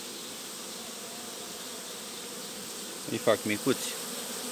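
Honeybees buzz steadily at a hive during swarm-making, a constant close hum filling the background, and someone speaks a few words briefly over it near the end.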